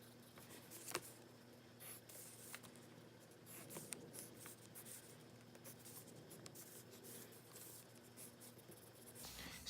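A pen or pencil scratches across paper as a physics diagram of a block on an incline is drawn by hand, with soft, steady strokes and taps that stay quiet and close for several seconds.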